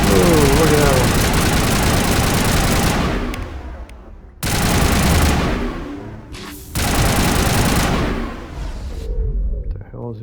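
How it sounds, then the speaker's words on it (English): Gunfire in the video game Mass Effect Legendary Edition comes as loud, dense sustained bursts of automatic fire, three long volleys separated by short gaps, close and dominant. "What the hell is it shooting at me?"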